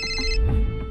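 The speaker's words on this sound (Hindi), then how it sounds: "एक फोन आया" A phone rings with a bright electronic ringtone, a steady tonal burst that is loud and close, heard alone with no voices over it.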